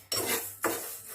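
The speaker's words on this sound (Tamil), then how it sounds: "இதை வறுத்துக்கலாம். ஸ்லோ தீயிலே வச்சு வறுத்துக்கலாங்க." Moong dal dry roasting in a pan over a low flame, heard as two bursts of dry grains scraped and rattled against the metal pan by a stirring utensil, close and fairly loud, with no voice.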